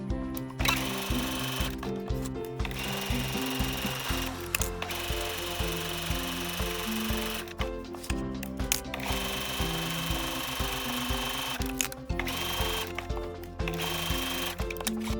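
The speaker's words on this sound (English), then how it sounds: "And sew the side seams with a 1/4 inch seam allowance." Sewing machine stitching the side seams of a fabric dog bandana, fast rhythmic needle whirring in several runs separated by short pauses, close and alone.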